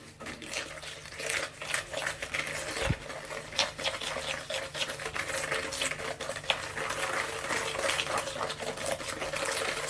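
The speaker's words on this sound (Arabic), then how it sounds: "هلأ كل اللي علينا نعمله إنه نحرك هيدا الخليط كتير منيح لحتى يتجانسوا معنا." A cookie dough mixture with white sugar is stirred in a bowl, producing a steady, soft scraping and patter that continues throughout with no talking.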